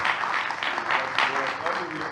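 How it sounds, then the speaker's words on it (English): Audience applause for presenters at an MIT data symposium session, a steady moderate wash of clapping from a seated crowd in a hall, continuous with a few louder swells. "Round of applause for the presenters."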